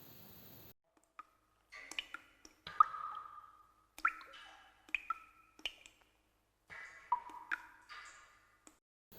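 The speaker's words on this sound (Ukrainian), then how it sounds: "Звук капання води." Water drips one drop at a time in an irregular rhythm, each a clear, ringing plink, close and distinct against a quiet background.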